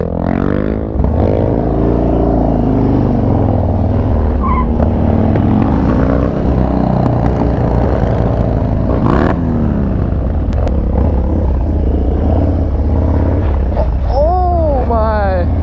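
A Harley Dyna motorcycle revving during a wheelie, a loud, close engine rumble that keeps rising and falling in pitch throughout, with voices talking over it.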